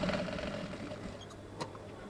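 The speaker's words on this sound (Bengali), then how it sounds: "প্রথমে আমি এই কাপড়টিকে সেলাই করে নিব" An electric sewing machine stitching kameez fabric, a low continuous mechanical whir with a faint tonal hum at the start and a few small clicks near the end, close and fairly quiet, with no talking.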